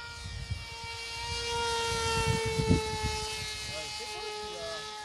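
A model airplane engine buzzes in flight at an outdoor field, a steady droning whine that swells and fades slightly while someone talks over it.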